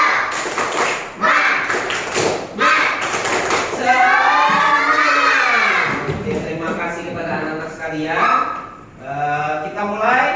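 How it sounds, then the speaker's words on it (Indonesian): Schoolchildren in a primary-school classroom perform a rhythmic tepuk semangat spirit clap: a few seconds of sharp, close group claps, then the class chants in unison, with more clapping mixed in. "tepuk semangat ya. Tadi tepuk semangat."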